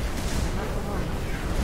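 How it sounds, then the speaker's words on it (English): Dense, continuous rumbling blasts of explosions in Halo 3 gameplay, loud and sustained with no break, filling the whole moment. "Lots of explosions."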